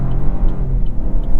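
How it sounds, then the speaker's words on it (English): A 2024 Chevrolet Trax's three-cylinder engine builds revs under acceleration, a steady low grunting drone with road rumble that stays close and even throughout, with no talk over it. "I kind of like the sound of that 3-cylinder as it grunts up"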